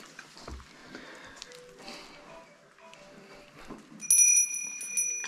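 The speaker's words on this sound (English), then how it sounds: "A little bell." A small thrift-store bell rings with a bright, clear chime near the end, after soft handling noises in a quiet room.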